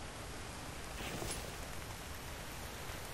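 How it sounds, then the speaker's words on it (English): Soft, even hiss of rain falling in the survival game The Infected, a faint continuous wash with no distinct drops or voices. "And the rain's coming again."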